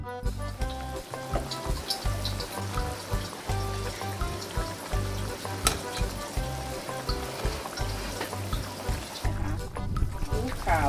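A Thai keto beef curry with pea eggplants and coconut milk simmers in a pot, giving a steady low bubbling and gentle sizzle that runs continuously throughout.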